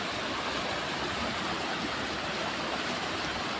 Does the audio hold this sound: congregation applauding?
no